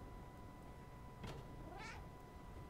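A cat meows a couple of times in the video game Stray, a short call followed by a rising, longer meow over a steady ambient game hum.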